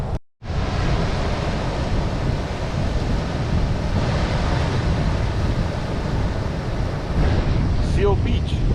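Continuous surf rushing in at Seal Beach on Christopher Columbus Island in the Galapagos near sunset, a broad steady wash of waves mixed with wind buffeting the microphone, close and loud after a brief cut at the start.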